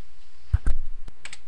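A few clicks from operating SPSS software on a computer, a couple of close, sharp mouse or key clicks followed by softer taps in a quiet room, without speech.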